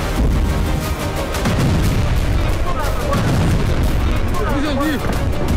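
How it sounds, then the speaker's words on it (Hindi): Heavy explosions from an air strike on a military site in Ahvaz, Iran, rumble and crack in a dense chaotic roar, with voices shouting throughout. "यह अहवाज का वीडियो है जहां एयर स्ट्राइक कर IRGC के ठिकाने को तबाह कर दिया गया।"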